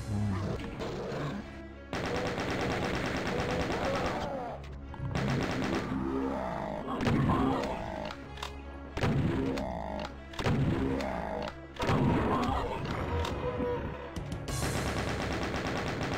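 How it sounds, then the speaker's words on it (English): Doom II chaingunners firing in a Master Levels map, repeated rapid bursts of gunfire mixed with crashes and monster growls, fairly loud and continuous through the stretch. "there's some chain gunners in these cages that you absolutely cannot see until you go over here"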